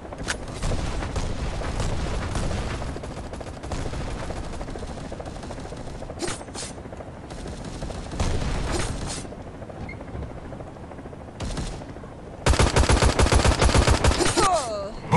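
Rapid automatic gunfire from the mobile shooter Guns of Boom rattles in dense, loud bursts, with sharper single shots and a fierce final volley, and a brief voice speaking during the fight.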